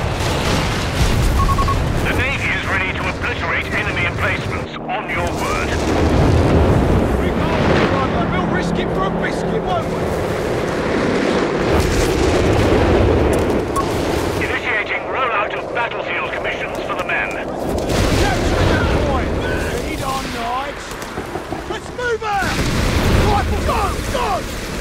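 Naval artillery bombardment in Company of Heroes 3 produces rolling booms and heavy blasts that swell and fade repeatedly, with game voices and other battle noise mixed in.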